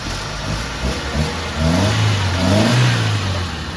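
Mitsubishi Lancer with a 4G15 engine, just repaired after a spark plug, high-tension wire and distributor fix, running loudly up close. The engine revs up and settles again in a steady mid-pitched drone.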